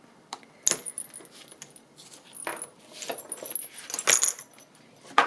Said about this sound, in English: Here comes the rattly book.